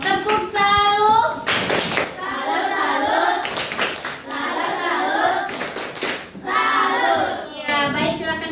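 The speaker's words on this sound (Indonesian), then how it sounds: "tepuk tangan buat temennya dan tepuk semangat dengan kelompok yang lain ya" A group of children in a classroom clap out a rhythmic cheer together, loud and close, with bright chanting voices running through the claps.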